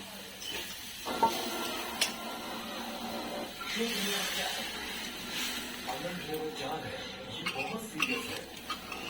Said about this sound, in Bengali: এই ছোলার ডালটা আমি এখন ঢেলে দিব এর মধ্যে